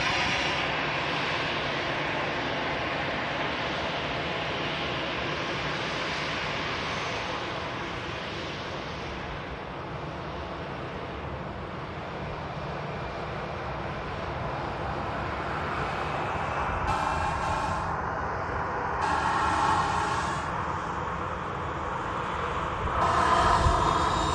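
An airliner touching down on runway 23 right at Manchester Airport gives a steady, distant roar of jet engines with broad rushing noise throughout, swelling slightly toward the end.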